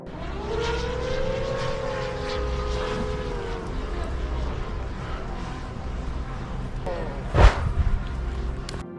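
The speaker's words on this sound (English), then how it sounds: "immediately sends an FPV drone to the area" FPV drone flying over a battlefield area, a continuous buzzing motor whine with shifting pitch, joined near the end by a sharp loud crack, with faint background noise throughout.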